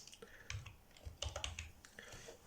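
Fingers tap out a short phrase on a computer keyboard, soft irregular keystrokes in small bursts, close and quiet.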